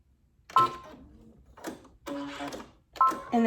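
A Brother Essence VM5200 sewing machine runs a zigzag stitch in short bursts, each a quick mechanical whir and clatter, four runs separated by brief pauses, close and clear, with no talk over it.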